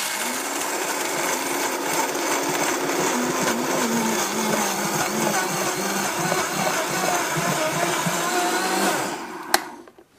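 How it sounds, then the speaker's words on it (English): A Vitamix blender grinds raw almonds into flour, a loud steady whirring roar that runs continuously for about nine seconds before cutting off abruptly with a brief click. "So this is the almonds in the Vitamix, and you're going to see how fast this is."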